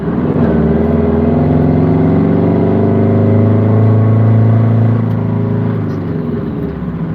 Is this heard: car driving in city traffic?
yes